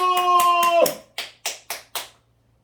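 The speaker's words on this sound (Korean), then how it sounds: "박수!" A sustained tonal sound, then four sharp, evenly spaced hand claps ring out close and clear during a Baptist church Sunday worship sermon, with near silence after.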